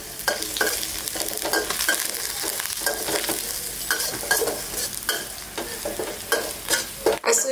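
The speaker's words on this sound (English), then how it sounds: "As soon as the oil is hot, put a little bit of garlic and start to fry it a little." Garlic fries in hot oil in a pan for a Northern Thai pork and tomato relish, sizzling continuously up close while being stirred, with repeated scraping strokes over the steady crackle.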